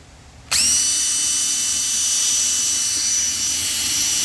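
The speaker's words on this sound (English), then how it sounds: "And then drill another hole right there." A power drill boring a hole for the windshield mounting bolts on a Harley-Davidson motorcycle starts abruptly and runs at a steady, loud high whine, close by with no talk.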